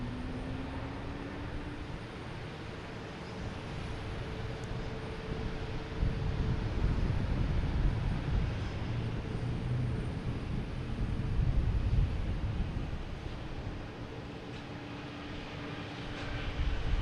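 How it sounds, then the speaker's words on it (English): An Avianca airliner passes at Boston Logan Airport with a broad, rumbling engine roar that swells and holds for several seconds, then eases and builds again, heard without talk. "So we got Avianca passing in front of us here."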